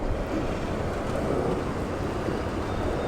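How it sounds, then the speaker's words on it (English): Gust of wind buffeting a microphone on a noisy London rooftop, a steady low roar and rumble filling the whole clip with no voices. "Just wait for this little gust of wind to pass."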